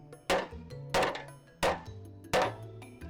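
An old hammer strikes four times in an even rhythm, each blow a sharp, close metallic knock with a brief ringing decay, during home renovation work.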